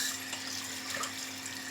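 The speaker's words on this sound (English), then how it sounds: "You have to wash the cheese by cold water." Cold tap water runs steadily over fresh cheese being rinsed for rasgulla, a soft, even splash at low level with no voices.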